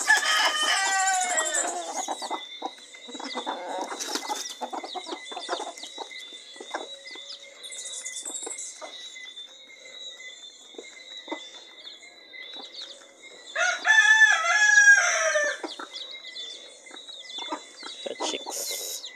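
Domestic chickens squabbling in the morning, with scattered clucks, squawks and a rooster's crow, plus a sharp louder burst of cackling partway through, set against quiet background birdsong and a soft constant whine.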